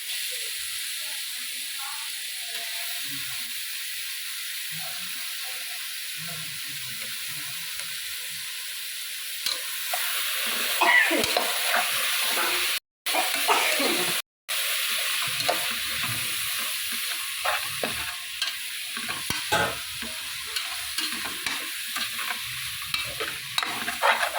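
Steady sizzling of prawns frying in a pan for biryani, with intermittent scraping and stirring that grows busier partway through, close and continuous.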